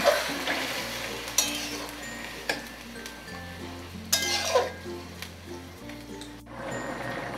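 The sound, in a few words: stirring pumpkin greens into spice tempering in a pan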